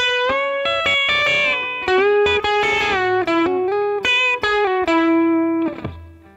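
Electric guitar plays a longer pedal steel lick, bending notes up and down in a flowing run before a low final note rings out.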